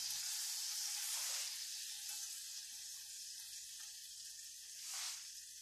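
Food sizzling in a saucepan on a hot plate of a stove, a quiet, steady hiss that softens midway and then swells briefly again toward the end.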